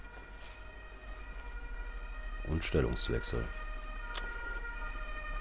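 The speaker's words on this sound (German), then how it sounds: "erstmal eine Sirene loslassen, um zu stören" Alarm siren going off in the video game Ghost Recon Breakpoint, a steady wailing tone held under game ambience while someone speaks briefly in the middle.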